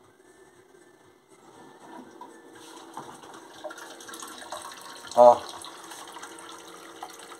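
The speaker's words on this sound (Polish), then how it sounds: "tu jak widzicie, woda leci." Water runs steadily from a pipe under strong pressure in a soft, continuous hiss, with one brief louder splash or knock partway through.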